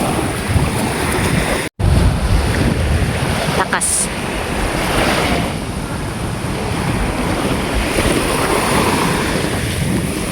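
Strong wind and surf at a beach, a continuous loud roar of gusting wind buffeting the microphone over breaking waves, with a person speaking briefly over it.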